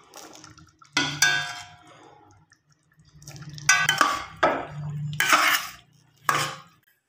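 Chickpeas tumble into a cooking pot in several separate clattering pours, each a loud burst with metallic rattle and sizzle, separated by quieter gaps with a faint background simmer.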